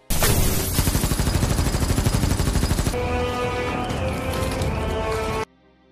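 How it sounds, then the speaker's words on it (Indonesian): Rapid bursts of automatic gunfire rattle loudly in a dense, continuous stream, then cut off abruptly into near silence. "Dengan senjata mesinnya, ratusan peluru dimuntahkan ke arah pasukan khusus."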